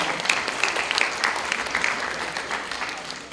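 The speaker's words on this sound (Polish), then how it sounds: "Brawa dla pana dyrektora" A room of people at a school history event applauds the school director, steady dense clapping with a few distinct nearby claps, tapering slightly at the end.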